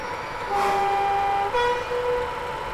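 A locomotive sounds its horn in two sustained tonal blasts, the second starting about midway, over steady rumbling rail noise; fairly loud and with no talking.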